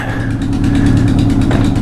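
A loud, close engine drones steadily and climbs slightly in pitch, like a motorcycle revving briefly.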